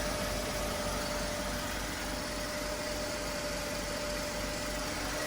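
A Mercedes W124 sits idling with its secondary air pump running, producing a steady, loud whirring hum and dense, even noise close to the microphone, with no speech.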